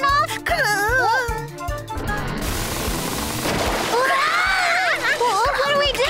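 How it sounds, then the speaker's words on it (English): Cartoon tap water gushing and splashing noisily after a tap refuses to turn off, a broad wash of spray between bursts of high, chattering character voices. "The water won't turn off?"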